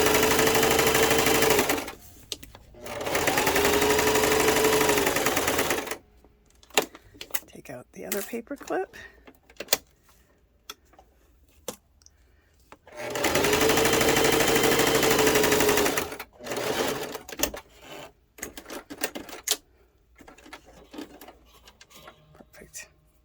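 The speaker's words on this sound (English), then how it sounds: "it still went right to the sewing machine without a problem" A sewing machine stitches through thick paper for a vintage library pocket, running in two long steady bursts separated by pauses, with handling noises and a voice speaking in between.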